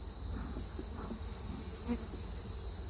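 Dense, steady buzzing of many honey bees in an opened hive close by, a continuous swarming drone with no talking.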